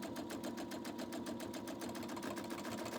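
A sewing machine runs steadily while stitching a quilt block, its needle hammering in a fast, even rhythm close by, with the motor hum continuous and no voices over it.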